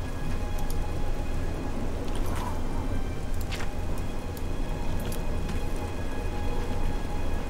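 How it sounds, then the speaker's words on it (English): Steady rainfall in the video game The Elder Scrolls IV: Oblivion, a constant dense hiss of falling rain with occasional brighter droplet splashes, even and continuous throughout with no talk. "Still raining."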